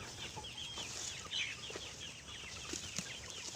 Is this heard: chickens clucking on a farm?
yes